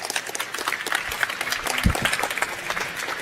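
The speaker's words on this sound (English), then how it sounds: "Give a big applause to Luiz." Audience applause for Luiz Carneiro at European Campus Party 2016 in the Netherlands, a steady crackle of many hands clapping at moderate level with a faint low thump partway through.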